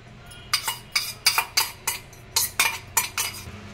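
A spoon stirs tempering into temple-style curd rice in a metal vessel, scraping and clinking against its sides in a quick, regular rhythm of about a dozen strokes, up close.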